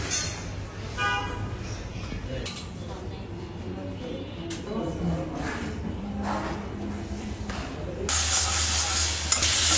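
Beans and potatoes sautéing in a pan, a soft continuous sizzle with occasional stirring clinks, a voice talking over it, and a brighter, louder hiss near the end.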